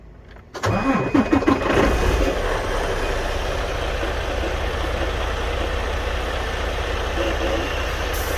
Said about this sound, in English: All right, so let's start the engine.